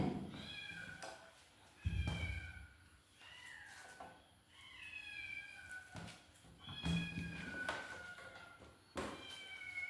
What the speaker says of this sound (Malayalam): നമ്മളെ പൂച്ചക്കുഞ്ഞ് കരയെന്ന് വെച്ചാൽ കേൾക്കുന്നത്